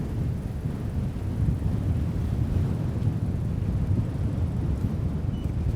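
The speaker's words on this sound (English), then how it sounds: "We do have windscreens on the microphones, but it is really windy out here." Heavy low rumble of strong wind buffeting a windscreened microphone outdoors in Boston, constant and loud throughout, with no voices.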